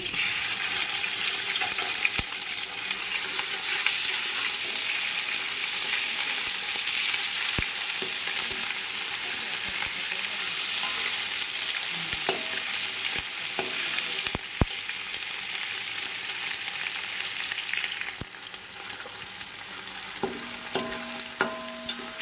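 Onions frying with ginger garlic paste for a restaurant-style vegetable biryani make a steady, loud sizzle that carries on throughout, with occasional clinks of a stirring utensil.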